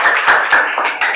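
A classroom of students clapping hands together in a quick rhythmic burst, close and loud, with a couple of distinct beats before it stops.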